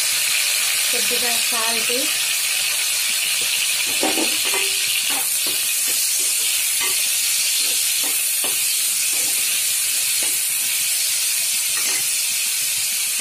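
Onions sizzle in a hot pan for a ridge gourd (beerakaya) masala curry, a steady close hiss of frying running throughout while a voice talks over it.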